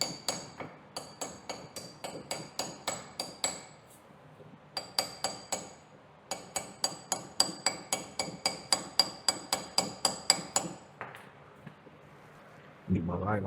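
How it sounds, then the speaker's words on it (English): Steel hammer tapping a wheel bearing cap into place on a second-generation Dodge Ram truck, with three bursts of rapid, ringing metallic taps, close and fairly loud, ending in a brief clunk. "I'm gonna take my hammer, tap the cap in"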